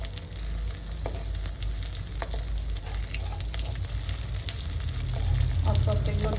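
Fish roe frying in oil in a pan, a dense, steady sizzle with occasional spoon taps that grows a little louder toward the end, heard close up without talk.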